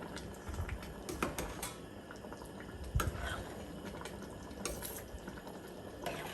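Rasta Pasta sauce is stirred in a pot with a utensil, making faint, quiet scrapes and soft wet clicks. A sharper knock on the pot comes about halfway through, over a low simmering background.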